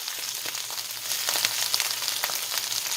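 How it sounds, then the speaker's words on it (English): Kale sautéing in a pan with garlic and pepper flakes, a bright, continuous crackling sizzle heard up close with no voices. "So I'm going in with my kale"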